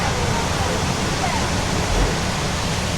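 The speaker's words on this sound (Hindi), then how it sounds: "ये जी का स्प्रिंग वाटर जो आ रहा है" Hot spring water flows steadily at the Roman Baths in Bath, England, a continuous broadband rush like a small waterfall that holds level and close throughout without a break.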